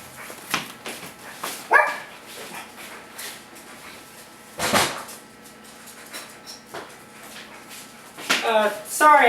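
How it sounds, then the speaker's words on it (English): A dog barks in a few sharp, scattered bursts, with some people talking and household knocks around it. "that's my dog"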